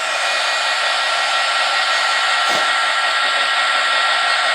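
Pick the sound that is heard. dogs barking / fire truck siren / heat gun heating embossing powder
heat gun heating embossing powder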